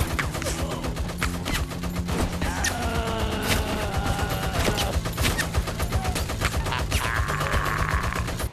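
Gunfire from the character Arthur in the VR game Peaky Blinders, a continuous loud barrage of rapid shots layered with mechanical clatter, with no break for the whole stretch.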